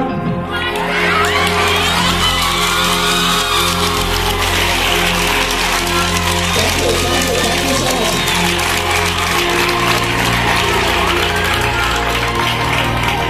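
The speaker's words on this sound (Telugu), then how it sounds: "ఒకసారి అంతా లేచి మేడం గారికి చప్పట్లు కొడతారా?" A crowd at a retirement celebration for a teacher stands and applauds, loud sustained clapping with cheering and children's shouts filling the whole stretch.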